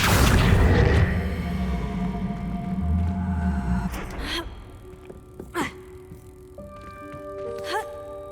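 A Levioso spell cast in Hogwarts Legacy, a loud rumbling whoosh that fades into a quiet magical shimmer with a few bright chimes and tinkling tones near the end, no talking.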